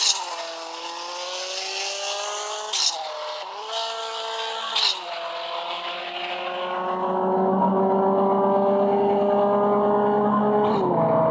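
Race car engines in the CSR Classics video game rev and climb through gears, loud and close, with brief breaks at each shift before a sustained high-pitched drone builds toward the end.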